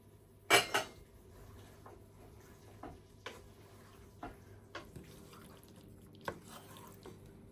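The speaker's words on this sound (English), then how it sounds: "just gently stir it around so it doesn't stick to the frying pan" Ackee and saltfish stirred gently in a frying pan: quiet, scattered clinks and scrapes of a utensil against the pan, one sharper clatter near the start, over a faint steady background hum.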